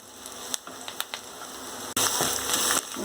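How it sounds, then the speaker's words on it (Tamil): Finely chopped onions sautéing in a pan for egg kuzhambu, a soft steady sizzle with a few sharp clinks early on, then a louder burst of frying near the end, close by and with no speech. "வெங்காயம் நல்லா வதங்கிடுச்சு"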